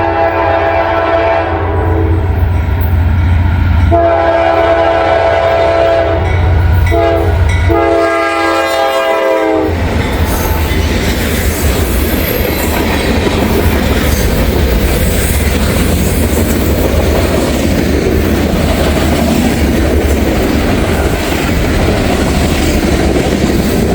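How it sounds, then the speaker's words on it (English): A Norfolk Southern freight train heading northbound sounds its horn loudly and close by for several seconds, then rumbles past with a broad, continuous roar of wheels and cars. "now we got a Norfolk Southern train on its way"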